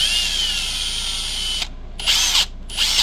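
A Ridgid cordless drill whirs at a steady high pitch close by, then stops and starts in two short bursts near the end.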